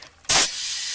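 A short, loud burst of hissing air rushes into an old car tire on a 1972 Camaro barn find that sat for 19 years, then gives way to a steady, quieter hiss of air flowing in.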